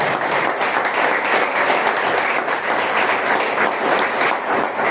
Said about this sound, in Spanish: Dale palmas a Dios.